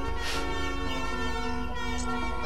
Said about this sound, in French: mais j'entends des klaxons, là.